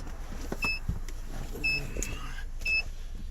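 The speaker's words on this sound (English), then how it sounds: "that's beeping because the battery is low" A 2016 Chrysler 300 with a low battery emits short electronic warning beeps, three evenly spaced tones over faint background noise.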